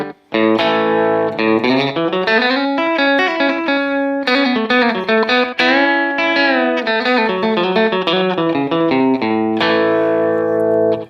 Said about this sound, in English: this is going to be my bass tone with a little bit of slapback delay coming from the